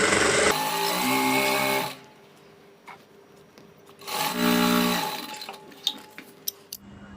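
A sewing machine stitches piping cord between two equal fabric layers, running in two whirring bursts of about two seconds each, separated by a pause, then a few light clicks and handling taps.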